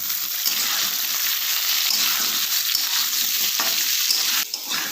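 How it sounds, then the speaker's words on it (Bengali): Boiled jackfruit seeds and soybeans frying with mixed vegetables in a pan for a vegetarian curry, a steady loud sizzle with scraping stir strokes running throughout, close and continuous. "এবার এগুলো আরও বেশ কিছুটা সময় একটু ভেজে নেব"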